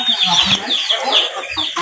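Chickens cluck and chatter nearby in a busy, overlapping flurry of short calls, with faint rustling and farmyard background noise.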